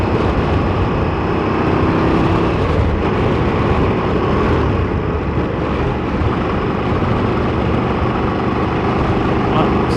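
A KTM 1390 Super Duke R motorcycle engine roars loudly and continuously while being ridden, with heavy wind rush over a steady mechanical drone and faint gear-change dips.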